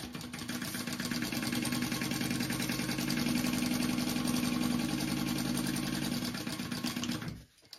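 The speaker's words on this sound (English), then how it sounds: "I'm going to sew those together." A sewing machine runs steadily for about seven seconds, stitching fabric pieces together with a continuous mechanical hum and rapid needle rhythm, then stops abruptly near the end.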